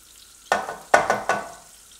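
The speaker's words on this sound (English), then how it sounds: "First thing we're going to do is saute the onions." Onions hit a hot skillet in four quick bursts of sizzle, each flaring up loudly and then fading, heard up close over near silence.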